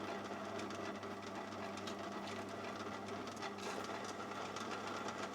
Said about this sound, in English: I'll start turning that down a millimetre bigger than the ID